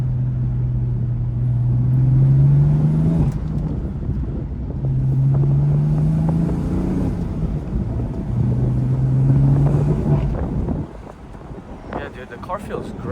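From inside a BMW M3 on a straight road, a low engine drone rises and falls in three long swells, with steady road and wind rumble. Someone talks between the swells.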